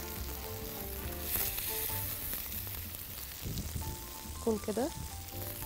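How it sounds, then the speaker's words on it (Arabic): Tomatoes sizzle and fry steadily in a grill pan previously used to cook steak, a continuous crackling hiss with some stirring, while someone speaks briefly over it. "احنا بس حطينا الطماطم في نفس الجريل اللي اتعمل فيه الستيك"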